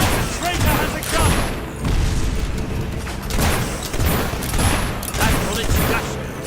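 Gunfire and booming blasts in Fable 3 crack out in a chaotic battle, with repeated loud shots and impacts in uneven clusters, while voices shout over the fighting.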